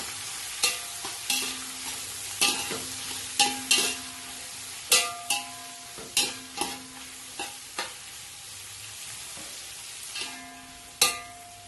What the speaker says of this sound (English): Then I'll stir it together, mix it together.